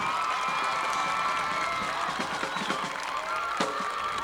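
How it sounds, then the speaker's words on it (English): Crowd applause and scattered cheering at a 1990 high school football game in the stands, a broad sustained clapping wash with a few sharper individual claps, heard from within the crowd. "Have a good round of applause."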